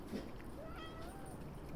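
Stray cats meow softly while eating amid a steady low background murmur, the faint mewing calls rising and falling over a couple of seconds.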